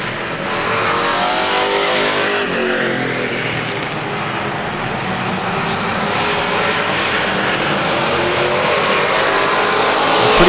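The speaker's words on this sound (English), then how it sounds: "we got a few highlights here of the late model sportsman race. Down the back stretch." Late model sportsman race cars roar down the back stretch of a New England track, a loud sustained engine blare that swells and pitches as the pack passes, with no talk.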